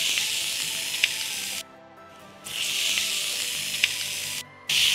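Pork and mixed vegetables fry in butter in a pan with a loud, close sizzle that cuts out briefly twice before surging back, with no voices.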